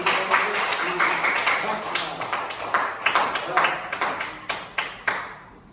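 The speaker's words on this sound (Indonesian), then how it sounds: "Oh, oke, tepuk tangan." A classroom of students claps during a lesson on the names of God, a run of fairly even hand claps mixed with a teacher's voice and chatter from the room.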